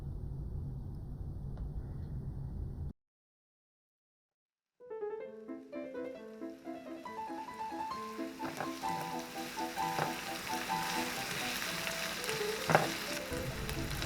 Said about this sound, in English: Now I'm adding our vegan brisket. Give it a nice stir.